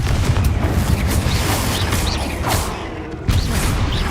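Spell blasts from a fire-casting duel in Hogwarts Legacy, a dense run of loud booms and crackling bursts over a constant busy game din, with one brief drop in intensity before a fresh burst.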